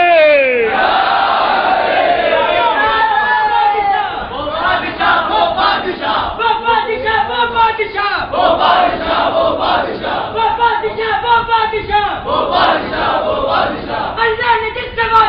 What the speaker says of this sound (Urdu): ارے جیتے رہیے جیتے رہیے میرے بھائیوں نعرے لگاتے ہیں